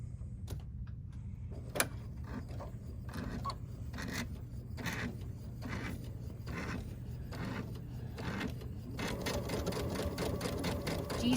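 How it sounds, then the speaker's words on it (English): A sewing machine stitches flanges of fabric held right sides together using a 1/4 inch foot, a steady close mechanical hum with rhythmic needle ticking that carries on without pause. "I'm gonna sew on this one with the 1/4 inch sole"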